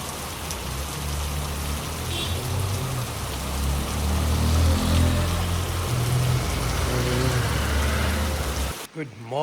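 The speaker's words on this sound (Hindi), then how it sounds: "ये देखो किस लेवल तक बारिश हो रही है।" Heavy rain pours steadily onto a car during car camping in Manali, a dense, continuous hiss and patter close by that persists for the whole stretch, with a voice talking faintly beneath it before a brief shift at the end.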